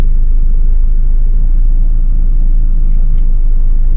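A car reversing during a driving lesson gives a steady, close, loud low engine rumble throughout, with no voices over it.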